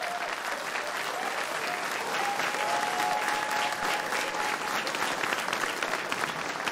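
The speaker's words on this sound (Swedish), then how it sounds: "Alla studenter applåderar." Students applauding together at a debate gathering, a dense, sustained burst of clapping from a crowd that holds steady at full strength for several seconds.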